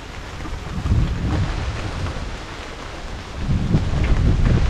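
Steady rain falls with low rumbling thunder swelling and fading, heard outdoors at moderate level with some wind buffeting and no talk.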